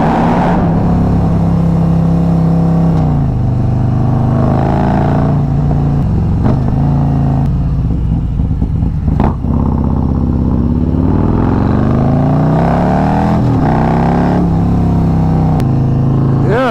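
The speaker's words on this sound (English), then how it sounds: "It's just such a fun bike to ride now with the modifications that I did." A modified Harley-Davidson Road Glide motorcycle being ridden, its engine droning loud and steady with rising and falling revs as it shifts through gears, close and continuous throughout.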